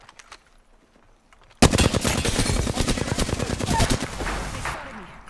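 Loud bursts of automatic weapon fire from the Apex Legends battle royale shooter, rapid repeated shots erupting after a quiet start and running for about two and a half seconds before trailing off.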